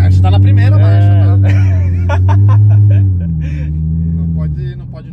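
Nissan 350Z engine droning loud and low from inside the cabin, pitch rising then dipping as it revs in first gear, with occupants talking and chuckling over it.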